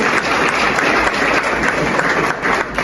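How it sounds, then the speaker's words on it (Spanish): A church congregation claps loudly during a sermon, a dense, close burst of applause sustained evenly for a few seconds with no talking. "Mándale un aplauso"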